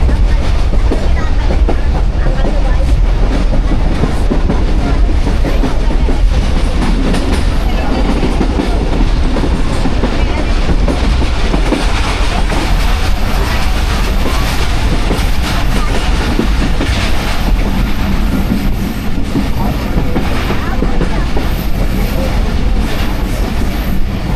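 A Shah Hussain Express passenger train running from Karachi to Lahore, heard from inside the carriage as a loud, continuous rumble with rhythmic clickety-clack of wheels over rail joints and occasional faint squeals.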